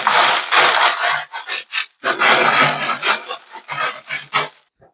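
Leca clay pebbles pour and rattle into a terrarium tank as a drainage layer, a loud, close, gritty rushing in several bursts with brief pauses between them, and no talking.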